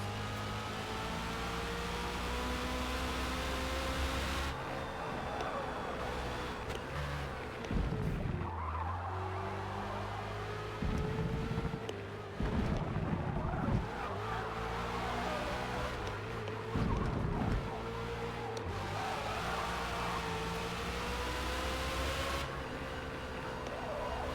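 Ferrari race car at the Yas Marina circuit in Forza Motorsport, engine droning loud and continuous with shifting pitch, tires squealing and skidding through corners, other cars passing close.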